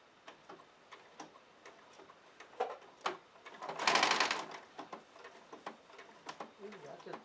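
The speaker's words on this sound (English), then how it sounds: "now I'm going to sew in the pocket on this side" A sewing machine stitching a pocket into a skirt, with ticking needle strokes, a louder whirring run in the middle, and talking over the steady clatter.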